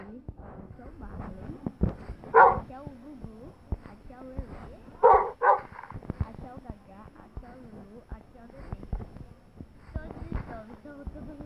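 Pet dogs at home give two brief bursts of barking, a few seconds apart, while a person talks almost continuously nearby.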